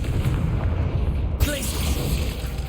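A Confringo spell explosion in the Hogwarts Legacy video game: a loud, dense rumbling boom over continuous battle noise, with a brief burst partway through.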